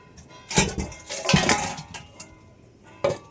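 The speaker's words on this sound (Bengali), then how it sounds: "আমি এখন আবার ঢেকে দিচ্ছি," A lid set on a cooking pot of raw-banana curry with fish: a few sharp metallic clanks and rattles in quick succession, then a quieter pause and one final clink, close and fairly loud.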